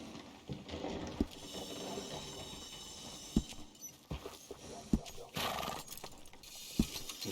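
A horse in a video game, standing by a stable, gives off scattered hoof clops and soft neighs over a steady ambient wash, with a few sharp knocks spaced unevenly through the scene.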